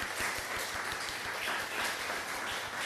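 A church congregation applauds during a Sunday service in Darmstadt, a dense steady wash of many hands clapping at a moderate distance, filling the short stretch without any talk.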